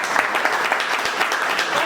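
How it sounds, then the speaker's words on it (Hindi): A meeting audience breaks into loud, sustained applause, dense clapping heard close and alone for about two seconds. "एक बार जोरदार तालियां"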